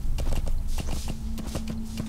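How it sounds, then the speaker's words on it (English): Horse hooves clip-clop in a steady trotting rhythm in the Metal Gear Solid V open-world game, fairly close and loud over a low ambient rumble, with a faint steady tone running underneath. "if we're up on a horse like this, it's easy to be spotted"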